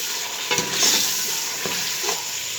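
Star anise, black pepper and cumin stirred into hot oil for Karachi street-style biryani masala, a bright steady sizzle with a few close scraping stirs of the spoon.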